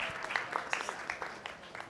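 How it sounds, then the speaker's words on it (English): An audience at a startup venture summit claps in a brief, moderately distant burst of scattered applause that fades within a couple of seconds. "Another round of applause."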